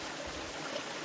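A creek stream flows in a steady, dense rush of water, close and continuous over a brief moment with no voices.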